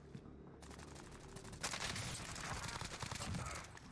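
Gunshots in the battle royale game Warzone, a rapid stream of shots from about 1.6 seconds onward, loud and dense over ambient game noise.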